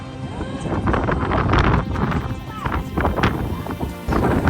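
Strong mountain wind buffets the microphone in gusty, uneven roars on a Seorak peak, loud and close throughout, with people's voices faintly mixed in.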